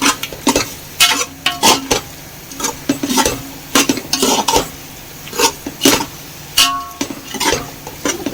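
A spoon scrapes and clinks repeatedly against a pot while Malvani masala is stirred into prawn rice, in irregular bursts of metallic knocks and scraping strokes with brief pauses between.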